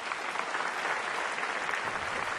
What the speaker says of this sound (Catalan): I un aplaudiment per ella.